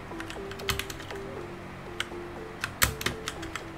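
Computer keyboard keys pressed in quick, irregular taps, light clicky strokes with one louder clack, close and fairly quiet over a faint tonal game background.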